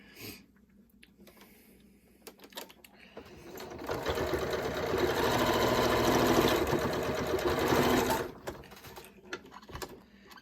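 A sewing machine runs a diagonal dart line on a fabric face mask. A few slow stitches come first, then a steady close whir for about four seconds before it stops, with no one talking.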